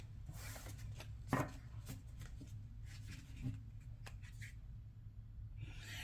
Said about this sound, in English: Let's do a riffle shuffle.